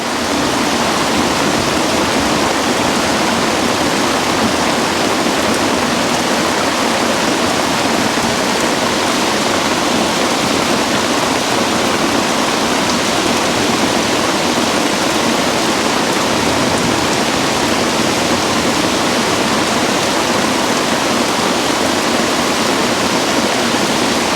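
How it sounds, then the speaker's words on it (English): Heavy rain pouring down hard around a truck camp with a canopy awning, a dense constant roaring hiss that stays loud and unbroken throughout, with no voices. "Rain was coming down so hard."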